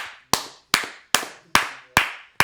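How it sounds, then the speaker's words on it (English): Slow, evenly spaced handclaps for a rugby team, six sharp, close claps about half a second apart, each ringing out briefly before the next, with no voices over them. "let's give a round of applause for the Yellow Bones"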